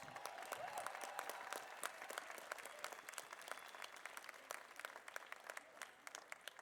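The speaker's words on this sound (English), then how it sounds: "Let's give them a big round of applause." An audience at a Fund Our Future education rally in Tallahassee breaks into sustained applause, a dense, steady wash of many hands clapping that fades slightly toward the end.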